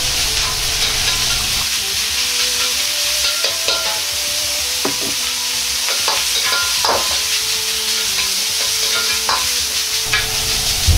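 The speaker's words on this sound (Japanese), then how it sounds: "油を鍋全体になじませたら豚ひき肉を入れ強火にして炒めます。" Ground pork stir-frying over high heat in a well-heated pan with a tablespoon of oil, giving a steady loud sizzle throughout with scraping and stirring clatter from a ladle breaking up the mince.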